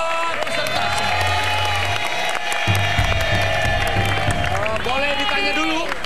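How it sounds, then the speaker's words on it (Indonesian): Studio audience at an Indonesian TV variety show applauding and cheering for a contestant, a dense, steady wash of clapping and crowd noise with music underneath, and voices mixed into the din. "Tepuk tangan buat peserta."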